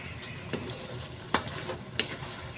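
Chicken adobo being stirred in an oily pan: steady sizzling with a few sharp utensil scrapes against the metal, close and moderately loud, with no voices.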